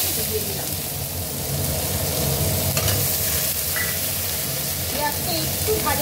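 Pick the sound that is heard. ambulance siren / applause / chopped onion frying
chopped onion frying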